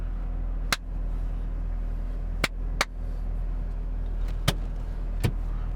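Interior of a stationary car with a low steady hum, broken by a few sharp clicks and taps close by.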